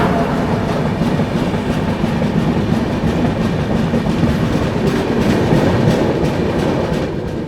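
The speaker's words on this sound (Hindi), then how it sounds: "गया जी से चलकर नई दिल्ली की ओर जाने वाली महाबोधि एक्सप्रेस वैप 7 के साथ हावड़ा शेड" Mahabodhi Express passenger train hauled by a WAP-7 electric locomotive from Howrah shed, a loud continuous rumble of wheels and cars rolling close by, steady throughout with faint rhythmic clatter and no voices.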